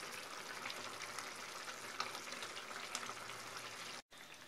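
A seasoned sauce for roast chicken with tomatoes bubbles and simmers in a pan, a soft continuous hiss with small pops, then a brief gap near the end.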